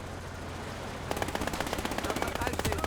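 An MG42 machine gun fires in the WWII video game Gates of Hell, sudden rapid bursts of shots starting after a second of quieter battlefield ambience and continuing steadily to the end.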